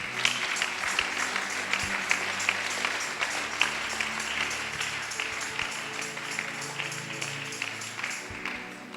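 A congregation claps steadily and loudly throughout a Sunday church service, a dense continuous stream of hand claps filling the room with little variation.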